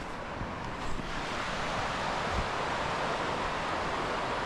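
A river flowing beside a riverside parking spot in Scotland, heard as a steady, full rushing wash of water that holds evenly throughout with no voices.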